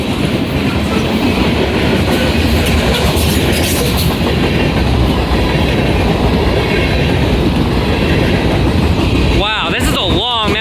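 A long westbound CN manifest freight train hauled by a big locomotive lashup rolls steadily past nearby, a loud continuous rumble of wagons with rhythmic clickety-clack and brief wheel squeals near the end.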